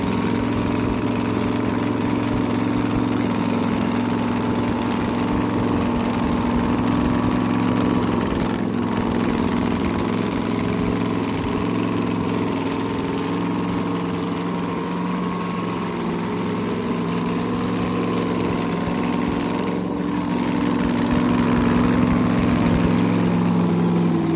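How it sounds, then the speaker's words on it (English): An engine runs on an engine run-in stand at a constant idle-like pace, a continuous mechanical drone with slight vibration and no change in speed throughout. "they put this on their engine run-in stand"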